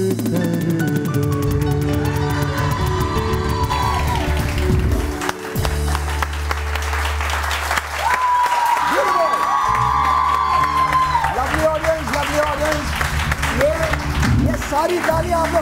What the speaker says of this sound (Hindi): सारी तालियां आप लोग अपने लिए बजाएं।